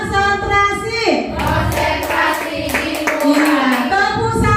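A class of pupils claps hands together in a steady counted rhythm, sharp repeated claps close by, mixed with a teacher's voice and children's voices.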